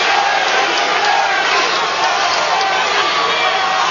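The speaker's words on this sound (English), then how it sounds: "and the crowd is chanting his name." Large boxing arena crowd during the tenth round of Larry Holmes versus Eric Esch, a dense steady roar of many voices chanting together, loud and continuous throughout.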